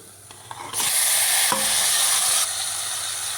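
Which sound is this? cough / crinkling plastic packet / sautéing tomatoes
sautéing tomatoes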